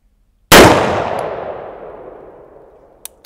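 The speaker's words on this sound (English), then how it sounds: "we're going to be shooting this with some black powder loads" A Bond Arms Defender .45 Colt fires a black powder load. One loud, close shot is followed by a long ringing decay lasting several seconds, and a faint click comes near the end.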